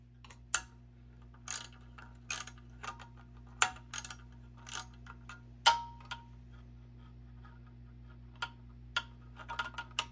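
A ratchet tightens bolts during a pump rebuild with a lower rebuild kit, giving short bursts of clicking strokes at irregular intervals, close and crisp over a steady low hum.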